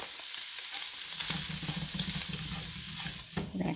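Sausage sizzles and fries in a pan while flour is stirred through it, a steady close crackle with a spoon scraping and stirring throughout, no talking.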